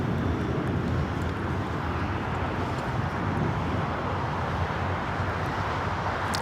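A Cathay Pacific Cargo Boeing 747-400 freighter taking off at LAX, a loud, continuous broadband jet roar with deep rumble, steady and sustained throughout.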